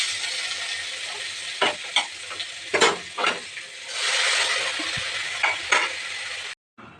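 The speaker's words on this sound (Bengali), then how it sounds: "আমি একেবারেই একটু শুকনো লঙ্কা কালো জিরে ফোড়ন দিয়ে শাকটা বসিয়ে দিলাম।" Radish greens fry in a pan with a tempering of dry chili and nigella seeds, a crackling sizzle broken by several sharp scrapes and clatters of stirring, ending abruptly.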